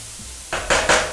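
Schezwan noodles stir-fried on high flame clatter in a pan, with a few quick, loud metallic scrapes and tosses close up after a brief quiet moment.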